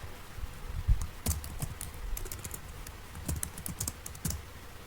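Fast, continuous typing on a computer keyboard while entering text into a Microsoft Word document, with dense, irregular key clicks and a few heavier keystrokes, close and clear, with no voice.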